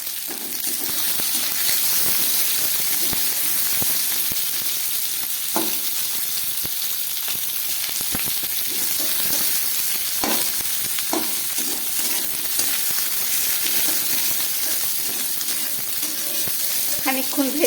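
Ginger strips, onion and capsicum frying in a pan, producing a loud, continuous sizzle with occasional clinks and scrapes of a spatula stirring.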